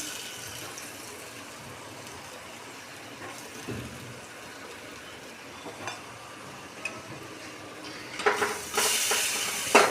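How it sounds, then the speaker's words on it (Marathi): Onions sautéing in a pan for veg biryani, a steady moderate sizzle with occasional stirring clinks, growing louder and busier with utensil scrapes near the end. "आता यात कांदा टाकून घेऊयात परतायला छानपैकी।"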